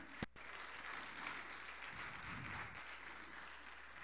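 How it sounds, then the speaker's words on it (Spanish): A church congregation applauds, a faint sustained wash of many hands clapping from a distance, steady throughout after a brief thump at the start. "Dele un aplauso al Señor"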